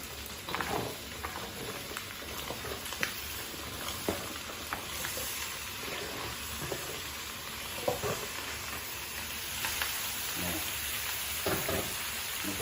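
Pumpkin and pork belly stir-frying in a pan, a steady bed of sizzle with scraping stirs and clatters from the utensil throughout, with no voices.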